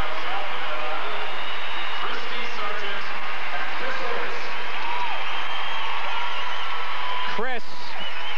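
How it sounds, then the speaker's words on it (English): Steady crowd applause filling an arena at a figure skating competition, the 1994 Canadian championships, a broad continuous clapping wash with a brief chime-like tone near the end. "so you will hear a great big round of applause"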